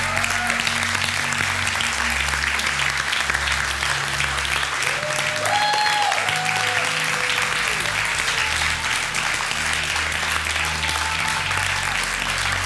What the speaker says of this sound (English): You can give the best hand clap you can.